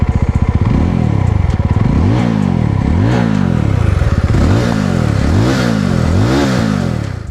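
A Yezdi Roadster Red Wolf Edition motorcycle idles close by, its exhaust chugging in a fast, steady rhythm. The engine pitch rises and falls in repeated swells of light revving, with no talk over it.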